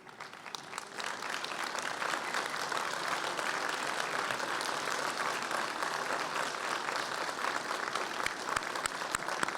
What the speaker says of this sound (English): turn around, face your family and friends, and give them a warm round of applause for supporting your journey